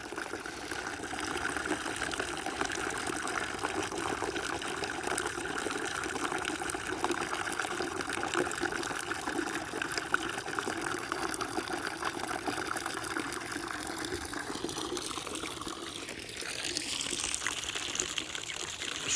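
Tap water runs steadily into a container for a pigeon to drink, a continuous close splashing flow that changes tone near the end as the stream shifts, with no speech over it.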